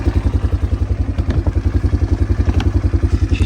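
Yamaha Bruin ATV quad engine idling close by, a loud, steady, rapid thumping pulse with light mechanical clatter, heard alone without talk.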